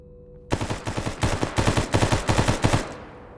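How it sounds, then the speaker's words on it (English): A burst of automatic gunfire in the video game STALKER GAMMA: several quick rapid-fire volleys of sharp, loud shots in close rhythm, starting abruptly after a brief quiet and ending with a short fading tail. "So, who's shooting?"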